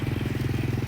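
A motorbike engine runs steadily close by on a street, its low throbbing pulse repeating evenly for under a second with no talk over it.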